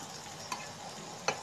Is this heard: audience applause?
no